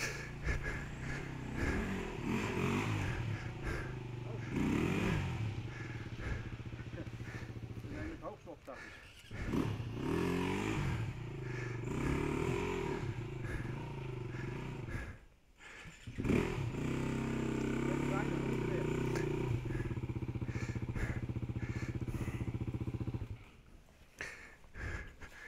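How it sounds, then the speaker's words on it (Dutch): Motorcycles roaring past on a trail at Bilstain, engines rising and falling in several loud passes, with people talking between them. "Allemaal motors op een kant."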